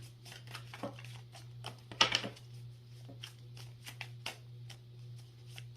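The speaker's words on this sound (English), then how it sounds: "we just want one card to fall out" A deck of success cards being shuffled by hand, with quick dry flicks and riffles in short bursts, including a louder flurry in the middle, over a steady low hum.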